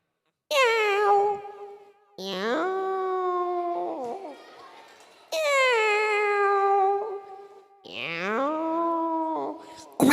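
A voice imitates two cats fighting, letting out four long, drawn-out yowls with short pauses between them.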